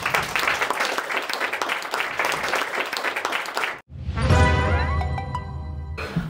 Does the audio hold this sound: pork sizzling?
no